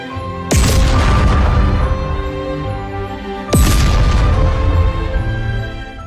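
Two big fireworks bursts in the anime Eighty-Six, each a sharp loud boom followed by crackling decay, spaced about three seconds apart over a soft sustained musical backdrop.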